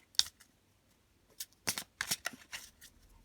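Tarot cards are shuffled close up in a quiet room, giving quick papery riffles and flicks that come in short bursts, one sharp rustle first and then a denser run of shuffling, with no voice.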